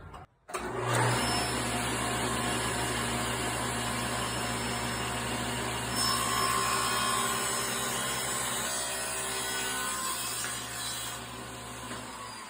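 A power saw with a taper jig runs continuously and loudly through a tapered cut on a violin fingerboard, a steady high whine with a slight shift in tone midway.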